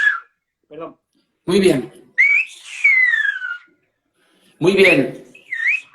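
A person whistles the word 'adiós' in Silbo Gomero, the whistled language of La Gomera, producing loud, close, sliding gliding tones in two separate bursts, with short bits of spoken Spanish between them.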